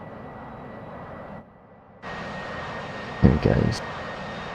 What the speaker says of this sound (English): I have never heard the Harrier take off when it hasn't been me flying it